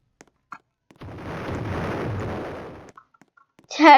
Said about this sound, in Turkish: Bir yerlerde bomba patlatıyorlar.